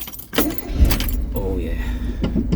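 A motorhome's keys jangle close by as its engine turns over and catches, settling into a steady running rumble, with a voice speaking briefly over it.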